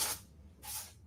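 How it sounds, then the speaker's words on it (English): Aerosol can of bug spray released in two short hissing bursts, loud and close, with a brief quiet gap between them and no voices. "I just happen to have some bug spray right here. Listen to the spray now."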